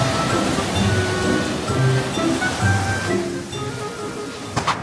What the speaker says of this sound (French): on se fait balayer par les vagues, genre vraiment, elles sont énormes